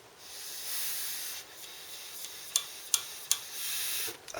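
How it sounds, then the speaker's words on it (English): Air blown through a thin Scottoiler oil tube on a motorcycle to clear it, a soft steady hiss broken by a few sharp ticks and rubbing noises, close up with no talk. "just blow down it"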